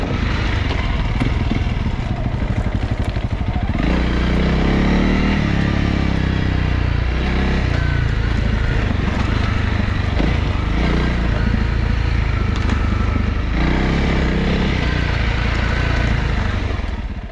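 Motorcycle riding a green lane byway in Cornwall, its engine droning steadily and close throughout, with the note rising and falling as the rider works the throttle over the track; no talking.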